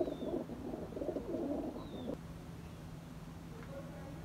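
Several pigeons coo in a loft in low, pulsing bursts for the first two seconds, then fall quiet against a steady background hum with a faint chirp or two.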